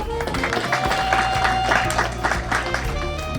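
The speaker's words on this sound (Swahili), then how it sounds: "Na wala siwezi kukataa kwamba msipige makofi." A church audience applauds as names of bishop candidates for a diocese are announced, steady clapping that fills the whole stretch beneath a man's continuing speech.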